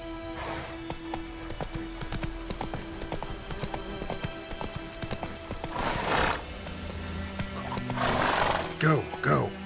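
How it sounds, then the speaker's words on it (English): A horse gallops in The Witcher 3, with rapid hoof clip-clops driving on throughout and loud neighs near the end. A person speaks over the game sound. "Giddy up."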